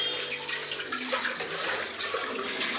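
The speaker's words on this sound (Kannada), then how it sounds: "ನಾವು ಇಷ್ಟು ನೀರು ಹಾಕೋತಾ ಇದ್ದೀವಿ" Water being poured into cooking batter in a home kitchen, a steady close pour with a continuous splashing trickle that runs evenly throughout, with no voices.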